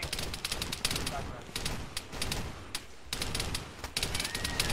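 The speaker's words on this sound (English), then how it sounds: "that APC is firing at us" Rapid gunfire from an armored personnel carrier in a war video game, bursts of quick repeated shots in several volleys separated by short pauses, fairly distant and under faint talk.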